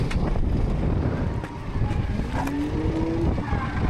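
BMW 320d E92 with a 2.0 diesel engine drifting, heard from onboard as a steady loud engine drone mixed with wind buffeting and a rising tire squeal.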